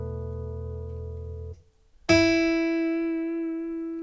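Spitfire Audio MG Soft Acoustic Guitar sample instrument: a low sustained note that cuts off, then a single bright plucked note rings out and slowly decays; close and clean, no voices.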